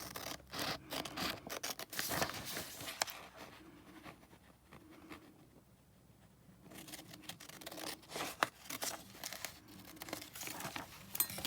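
Scissors and paper at a craft table as a 3 by 3 inch square paper pattern for a doll apron is cut out: soft crinkling, snipping and rustling in close, quiet bursts, with a brief lull midway.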